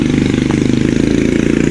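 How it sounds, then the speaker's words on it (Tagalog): A motorcycle engine runs steadily nearby during a family outing at a hot spring resort in Laguna, giving a continuous low, pulsing drone without voices. "Aga, may motor."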